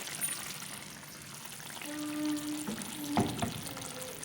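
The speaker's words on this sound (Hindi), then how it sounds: "इसमें आलू सारे ऐड कर दूँगी" Potatoes go into a simmering fenugreek curry with a wet splash, soft bubbling and a brief clatter, heard up close with no talking.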